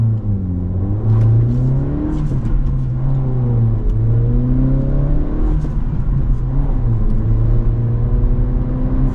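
A 2025 Acura Integra A-Spec with the 1.5-liter turbo engine and six-speed manual pulls away, heard from inside the cabin as a loud steady engine drone that rises in pitch through the gears, with a brief dip at each shift.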